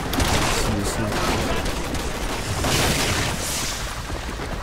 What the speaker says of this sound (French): Je tire au pistolet.